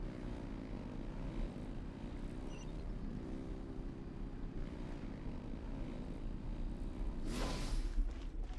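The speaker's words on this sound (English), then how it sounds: "Rev the engines!" Engines rev in the video game Genshin Impact, a steady, droning mechanical hum throughout that swells slightly toward the end, where a brief rushing whoosh cuts in.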